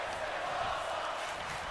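A virtual arena crowd in the WWE 2K26 wrestling video game cheers in a steady, continuous roar that fills the background at moderate volume.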